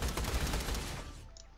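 Turret gunfire in the video game Borderlands: The Pre-Sequel, a short burst of rapid automatic shots that rattles loudly, then trails off into quieter decay.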